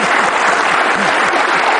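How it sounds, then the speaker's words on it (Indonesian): Studio audience applause on an Indonesian television talk show, a loud, dense and steady wash of many hands clapping at once, heard alone without speech. "Luar biasa, kita kasih tepuk tangan."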